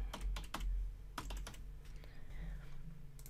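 Quick bursts of clicking keys on a computer keyboard as a folder name is typed, with a few clustered strokes and short pauses, close and fairly quiet against a low background hum.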